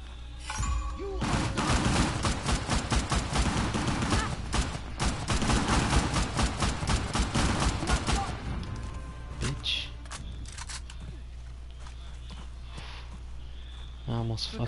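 Repeated gunshots crack in quick volleys during combat in Uncharted: The Lost Legacy, heaviest in the first half, then thinning to scattered shots under quieter game ambience.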